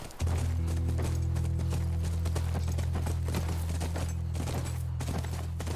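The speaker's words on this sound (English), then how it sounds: "Oh, that's a horse. That's our horse." Horse hooves clip-clopping in The Last of Us Remastered, a steady run of close hoof strikes over a constant low rumble, continuing without pause and with no talking.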